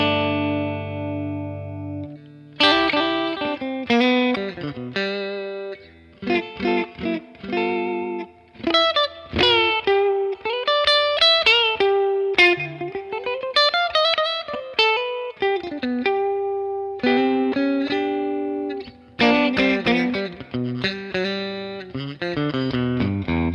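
Clean Collings 290 electric guitar in the middle pickup position, both pickups in parallel and hum-cancelling, played alone, bright and chiming, with strummed chords and picked single-note runs, steady and close.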